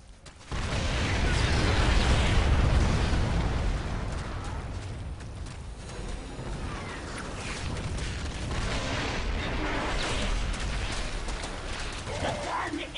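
Gunfire and explosions as a gun emplacement is destroyed in StarCraft II, a continuous rumbling roar of blasts and shots, fairly distant and moderately loud, with speech over it.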